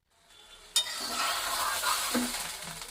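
Capsicum, beans and chicken drop into a hot pan of rice and start stir-frying. A sharp hiss flares up and settles into steady sizzling and scraping close by, with no voices.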